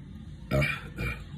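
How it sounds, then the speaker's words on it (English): Two loud, close burps after chugging icy cold beer, the first long and gurgling, the second shorter, set against quiet background noise. "Obligatory burps."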